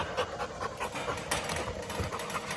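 Several American Bulldogs panting steadily and close by as they run together around a yard, with rapid rhythmic breaths and faint scuffling underneath.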